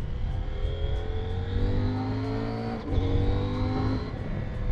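A CFMoto 800MT motorcycle engine revving and accelerating, pitch climbing steadily, briefly dipping at a gear shift, then rising again, fairly close.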